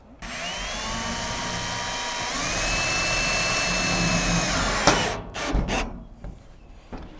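A power drill whines steadily as it drives 1.5 inch black roofing screws into a fence panel, rising in pitch for a few seconds, then a sharp clack and a few short bursts as it stops.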